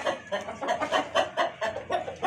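An Aseel rooster clucks in a steady series of short, repeated notes, close and moderately loud, with no talking.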